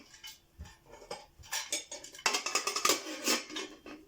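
Metal clattering and clinking of a small pressure cooker and its lid being handled up close, with irregular knocks and scrapes building in intensity.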